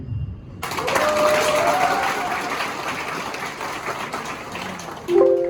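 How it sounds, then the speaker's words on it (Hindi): A live comedy show audience applauds steadily, a dense wash of clapping that swells and holds for several seconds, then a brief voice cuts in at the end. "तालियां थोड़ा सा एक बार गड़गड़ा दीजिए"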